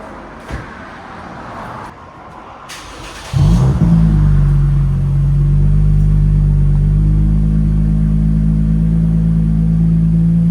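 A 2023 Lexus IS 350 with a 3.5L V6 and a Flowmaster Flow FX exhaust fires up, a sharp start followed by a loud, deep, steady idle rumble close by.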